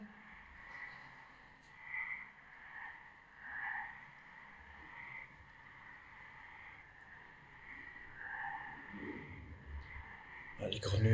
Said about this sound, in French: Les grenouilles, elles s'en donnent un cœur joie.